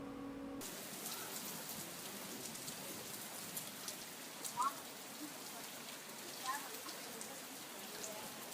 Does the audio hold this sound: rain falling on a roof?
yes